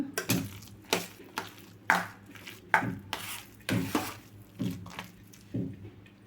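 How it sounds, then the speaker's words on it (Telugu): A spoon stirs spiced pani puri water with salt in a bowl, making about eight distinct clinks and swishes in an uneven rhythm, close and fairly quiet, with no talking. "వీటిని అన్నింటిని ఒకసారి కలుపుకుందాము."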